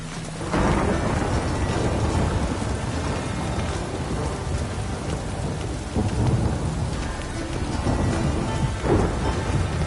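Video game rain pours heavily and continuously while deep thunder rumbles and rolls beneath it, loud and enveloping, with no voices.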